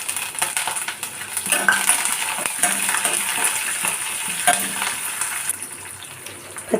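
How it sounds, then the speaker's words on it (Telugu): Dry red chillies, green chillies, ginger and curry leaves fry in hot oil in a pan, giving a steady close sizzle with scraping and clinking stir strokes throughout. "ఇప్పుడు ఎండుమిర్చి వేసుకొని ఒకసారి కలుపుకొని తర్వాత పచ్చిమిర్చి,"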